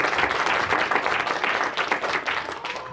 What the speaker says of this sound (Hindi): जोर से ताली बजाए परमेश्वर के लिए।